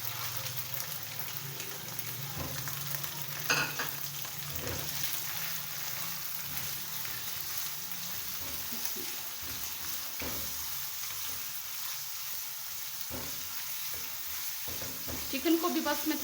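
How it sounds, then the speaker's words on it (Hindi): Thin chicken strips frying in oil with garlic, a steady close sizzle with occasional scraping stirs and light clatter of a utensil in the pan. "चिकन को भी बस मैं थोड़ी देर भूनूंगी"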